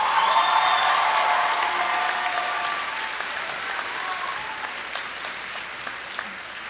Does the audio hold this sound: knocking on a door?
no